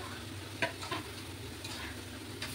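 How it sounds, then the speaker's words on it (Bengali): Cauliflower pieces stirred into a spiced gravy with green chilli in a pan, a low bubbling sizzle under a few close stirring knocks and scrapes. "এবার সেই মশলার গ্রেভিটা দিয়ে দিলাম, কপিগুলোকেও দিয়ে দিচ্ছি"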